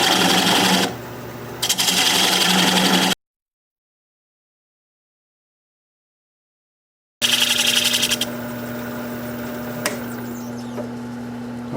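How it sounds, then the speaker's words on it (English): A 1/2 inch bowl gouge cutting alder wood on a lathe spinning near 700 RPM, a loud steady rushing and scraping drone with a constant motor hum, cut off by a stretch of silence before resuming. "I'll take a 1/2 inch standard grind bowl gouge and commence to removing this tenon."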